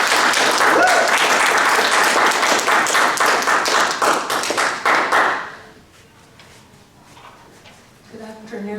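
A warm audience at a poetry reading applauds to welcome poet Lourdes Figueroa to the stage: dense, steady clapping for about five seconds, then fading to a quiet room before a voice begins.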